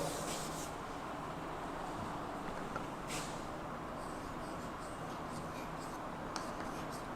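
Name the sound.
chalk or pen writing an equation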